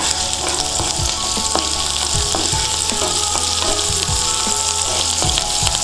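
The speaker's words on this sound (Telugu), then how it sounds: "ఇలా కొంచెం చిట్టపటలాడుతున్నప్పుడు ఆనియన్స్ వేయాలి" Green chillies splutter in about two tablespoons of hot oil, a loud continuous fry with scattered sharp pops and crackles close by, no speech.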